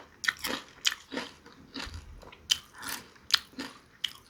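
Crispy deep-fried crab is eaten up close, with repeated loud, sharp crunching bites and chewing in an irregular rhythm, one bite every half second or so.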